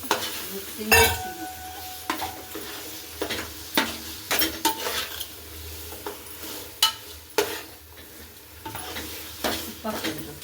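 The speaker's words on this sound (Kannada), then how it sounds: "ಚಿಕನ್ ಹಾಕಿದಾಯ್ತು. ಸೊ ಈಗ ಮಿಕ್ಸಿಂಗ್" A spatula scrapes and stirs chicken around a pan with a light sizzle, irregular knocks and clinks recurring throughout, close up.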